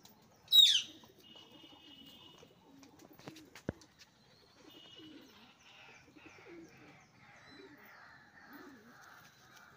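A restless female Kotashi pigeon held in the hand gives soft, faint coos amid quiet rustling, with one sharp high chirp near the start and a brief knock midway.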